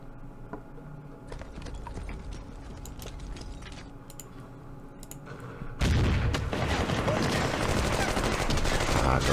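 Machine gun and recoilless rifle fire from the Campaign Series Vietnam war game, heard as a steady, dense rattle of shots and clatter that jumps into a much louder, harsher barrage partway through, with no talking.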